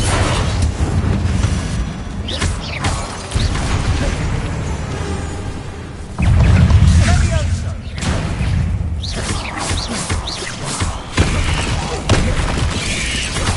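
Spell blasts from Bombarda and Confringo in the Hogwarts Legacy video game, fired during a fight with spiders. Repeated booming bursts and thuds come close together over busy game noise and music, with a heavier impact near the middle.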